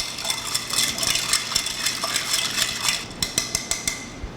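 Bar spoon stirring a Corpse Reviver cocktail over ice, with a steady run of close, bright clinks and rattles that sharpen into distinct taps near the end.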